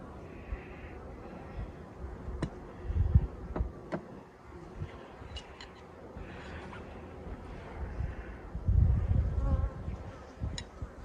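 A low, steady hum of many active honeybees buzzing close by in a winter hive, with occasional knocks and rustles over it.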